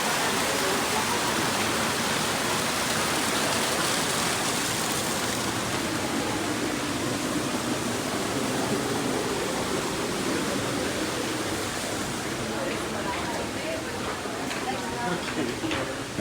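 Steady, roaring rush of an indoor waterfall at Smoky Mountain Knife Works in Sevierville, Tennessee fills the whole stretch, loud and unbroken, with faint voices blending into the noise.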